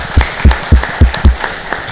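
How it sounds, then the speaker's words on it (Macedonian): At a Fire Protection Day ceremony in Kavadarci, a short burst of hand clapping gives about five or six sharp, evenly spaced claps, loud and close, that fade quickly. "Прво можам аплауз од моја страна спрема вас"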